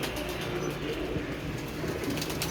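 A pigeon, a netted or caught bird, coos in a low, steady murmur against a constant close background hum, with no speech.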